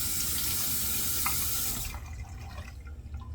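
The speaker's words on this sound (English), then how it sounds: "Let me do a quick rinse" A tap runs steadily into a sink for a quick rinse during a shave, a loud rushing flow that cuts off suddenly partway through and leaves only faint drips and room noise.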